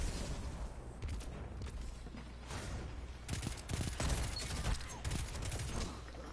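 A pulse rifle in the Destiny 2 shooter fires in repeated short bursts of clattering shots over game background noise, with a few booming impacts mixed in.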